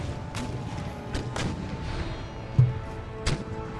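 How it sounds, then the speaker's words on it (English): Mortar artillery in Empire Total War fires as a few distant, muffled thumps and booms over a quiet battlefield ambience, with two sharper reports standing out near the end. "let's check to see if their mortars can fire"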